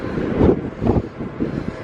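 Gusty wind sweeps across the open deck of the Norwegian Breakaway cruise ship in November, rising and falling in soft puffs that rumble against the microphone.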